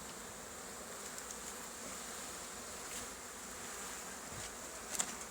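Honey bees from an opened hive give a faint, steady hum with a brief louder buzz near the end, no voices.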